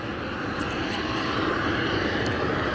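A cargo aircraft comes in to land at East Midlands Airport, its engines a steady, loud broadband roar that holds level without pause.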